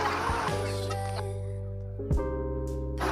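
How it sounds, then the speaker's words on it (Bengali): Chicks clucking in a home courtyard, several soft chirps and clucks over steady, droning background noise, with brief louder calls near the end. "তারপরে মুরগি বাচ্চাগুলোকে দেখালাম"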